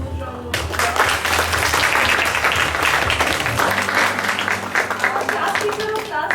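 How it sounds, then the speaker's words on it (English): Applause for teachers at a class 6 parent orientation, loud continuous clapping from an audience beginning after a short pause, with faint voices mixed in. "Please give them a huge round of applause."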